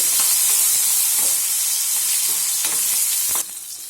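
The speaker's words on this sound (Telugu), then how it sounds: "అలాగే రెండు రెమ్మల కరేపాకు వేసుకొని ఈ ఆనియన్ మెత్తగా అయ్యేంత వరకు ఒక రెండు ఒక నిమిషం పాటు బాగా వేసుకుందామండి" Onions and curry leaves sautéing in a pan, a loud, dense close sizzle with scattered stirring scrapes, dropping slightly in level near the end.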